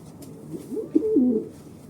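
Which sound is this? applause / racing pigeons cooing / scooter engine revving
racing pigeons cooing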